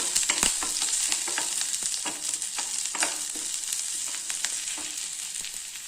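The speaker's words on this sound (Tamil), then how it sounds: "மிளகாய், கருவேப்பிலை போட்டுக்கலாம். போட்டு இதையும் நல்லா ஒரு வதக்கலாங்க." Onion, green chilli and curry leaves sauté in a pan for a beans fry, a steady close sizzle with scattered clicks and scrapes of stirring throughout, no voices.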